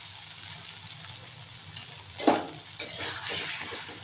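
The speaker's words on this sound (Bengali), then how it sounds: "ভালো করে নেড়ে নেব" Mustard paste being stirred in a hot pan with cooked tomatoes, a low sizzle under scraping of a utensil against the pan, with sharper bursts of frying partway through.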